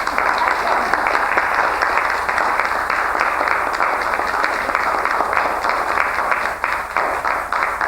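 Steady audience applause fills a community arts council awards ceremony, dense continuous clapping at full, even loudness throughout with no voices standing out.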